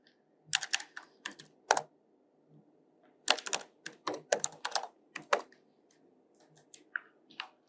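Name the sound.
typing on a computer keyboard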